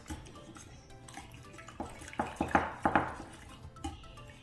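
Whisk clinking against a bowl while eggs are beaten for scrambled eggs, a quick run of light metallic taps building to a brisk rhythm near the middle, close and fairly quiet.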